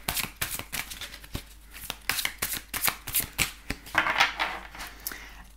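Tarot cards shuffled by hand in quick, crisp riffling strokes, close and fairly loud, with a steady rhythm of sharp paper flicks and no talking.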